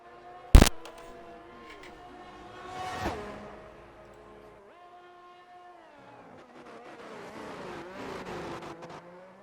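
A sim racing car circles Circuit of the Americas (COTA), the engine revving and shifting through gears at a distance, with a sharp loud click early on and the engine note rising and falling through corners.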